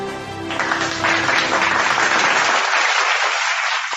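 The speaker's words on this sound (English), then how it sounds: "Ladies and gentlemen, a round of applause for our speakers" An audience at an ISO 56002 innovation management event applauds its speakers, a loud, dense burst of clapping that holds steady close by for the whole stretch.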